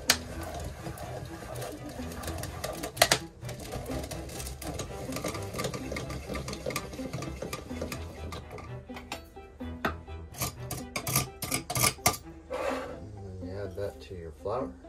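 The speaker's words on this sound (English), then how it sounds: "start grating." A half stick of butter is rubbed over a hand grater for biscuit dough, giving repeated close scraping strokes in uneven bursts, with a person talking over parts of it and a few clatters of utensils.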